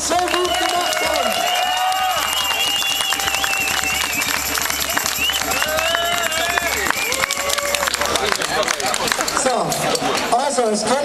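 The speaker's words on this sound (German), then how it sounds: "einen richtig fetten Applaus für die Polizei" A rally crowd applauds and cheers the police, loud sustained clapping and shouting layered under music with sweeping tones, a dense continuous roar.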